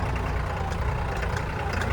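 A tractor engine running on a high mountain pass road in Ladakh, a steady low rumbling drone that stays even and fairly quiet throughout with no talk.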